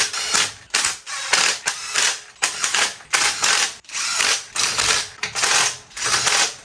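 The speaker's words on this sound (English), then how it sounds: "Torque to spec. We're gonna go 25 foot-pounds." Torque wrench tightening cylinder head bolts on a Volvo B20 engine, giving about nine rapid ratcheting bursts in a regular rhythm with brief pauses between pulls, close and clear with no talk.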